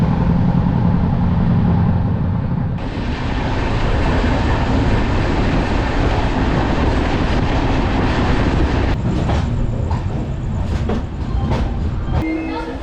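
The Kanyakumari Pune Express rumbles loudly as it arrives at Coimbatore Junction, with a steady roar of wheels and carriage noise, faint clacking toward the end and no clear talking.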